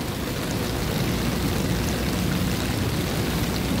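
Heavy rain pours steadily during a storm over streets with blocked drains and deep floodwater, a dense, unbroken roar that holds even and loud from start to finish, with no voices.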